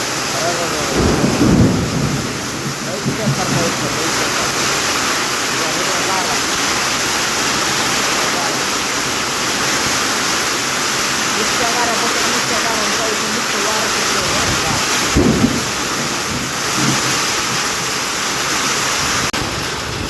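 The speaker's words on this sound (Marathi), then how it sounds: "नुसता गाराचा पाऊस पडायला लागला भयंकर पाऊस" A heavy hailstorm pours down with driving rain in a continuous loud wash, while deep thunder rumbles nearby, first early on and again about three-quarters through.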